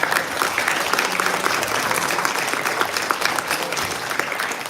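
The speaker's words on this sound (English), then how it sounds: "So please give Sheikh Khalid a very big hand there" An audience at a community iftar gathering claps steadily for a speaker on stage. The applause is dense and continuous, loud and close, with no voices standing out.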